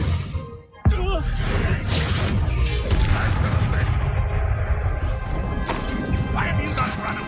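An Expelliarmus spell in Hogwarts Legacy lands with a sudden heavy boom and crash, followed by rumbling impact and whooshing effects amid battle, with voices heard over the noise.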